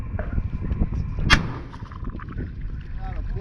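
A single sharp shotgun blast fired on a fishing boat at a large Alaskan halibut, one loud crack against water and hull noise, with people talking around it.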